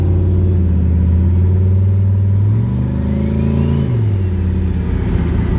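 A turbocharged truck runs with a catalytic converter and no muffler, giving a loud, close, continuous exhaust drone whose pitch sags and then rises as the engine revs shift.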